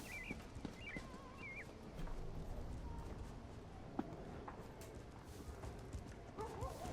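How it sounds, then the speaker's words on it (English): Horse in the video game Elder Scrolls Online, soft repeated hoof clip-clops with a brief whinny, quiet beneath game ambience and bird chirps. "let me get off my horse here"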